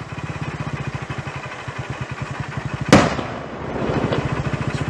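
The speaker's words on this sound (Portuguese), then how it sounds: "Explodiu o carro lá, ó." An armored cash transport truck explodes in a single sharp, loud blast, heard over the close, steady putter of a motorcycle engine that keeps running before and after the bang.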